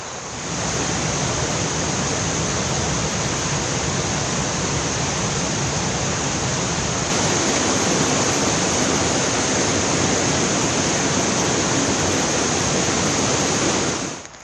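A river rushes through the rocky Aberglaslyn Pass on a cold, frosty morning, giving a loud, unbroken roar of flowing water that stays steady throughout.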